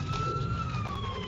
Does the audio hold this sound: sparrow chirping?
no